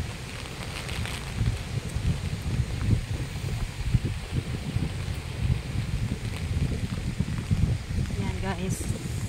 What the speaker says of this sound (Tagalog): malakas ang hangin, malakas ang ulan, pero ngayon humina na ang ulan, ang hangin lang malakas